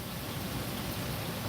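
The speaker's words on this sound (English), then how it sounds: "I like rains like this, but the hail I can do without." Steady broadband rain during a Tennessee thunderstorm, a continuous close hiss with low rumbling texture underneath, no voices and no distinct thunderclap.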